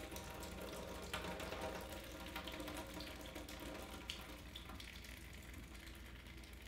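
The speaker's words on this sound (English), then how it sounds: "we're gonna run cold water over it again" Cold tap water runs over lettuce held in a kitchen strainer, a steady faint splashing and hiss that continues without pause and is heard alone.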